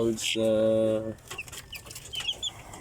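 Native chickens and small chicks are kept together: a loud, drawn-out tonal call near the start is followed by scattered high, quick chick peeps and soft clucks, close by.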